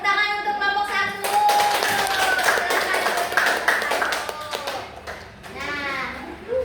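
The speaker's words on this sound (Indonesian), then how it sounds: "tepuk tangan untuk kelompok 1" A primary school class of fourth graders claps for group 1 in a classroom, with scattered, uneven hand claps running under continuous talking and children's voices throughout.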